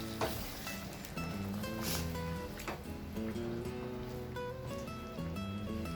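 Tamarind water poured into a simmering dry anchovy and egg curry sets off a steady, close sizzle, with faint tonal music running underneath throughout.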